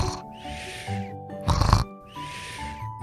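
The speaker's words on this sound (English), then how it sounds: "he was snoring gently" Gentle snoring, slow rhythmic breaths in and out with a soft snort in the middle, close and steady.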